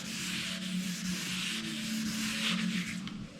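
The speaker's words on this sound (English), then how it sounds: "More sanding I did with the 320, the less I gotta do with the 400." Steady, continuous scratchy rubbing of 320-grit sandpaper on a GMC truck surface, close up, with a slight back-and-forth swell and no voices.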